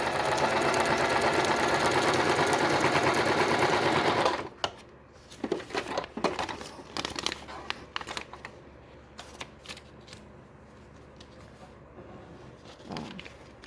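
A sewing machine stitches patchwork fabric in a steady, loud whir for about four seconds, then stops, leaving soft scattered handling noises of the fabric.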